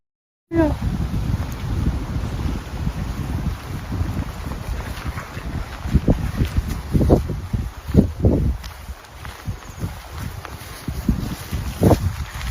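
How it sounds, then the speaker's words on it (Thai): Strong night wind buffets the microphone in gusty, roaring bursts, with rustling and a few sharper knocks rising and falling over about twelve seconds, no clear talk. "โอ้ย ลมก็แรงเลย"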